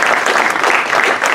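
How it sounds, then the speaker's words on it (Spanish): An audience at a social entrepreneurship awards event applauds, a dense, steady burst of many hands clapping close by for a second or so. "Uno de ellos es Carlos Glata, al que pido un aplauso, por favor"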